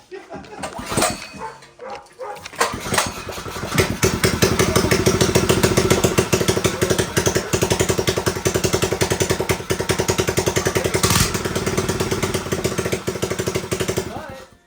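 A loud, harsh motorcycle engine with no muffler rises after a couple of seconds and rumbles steadily with rapid popping pulses, staying close and dominant.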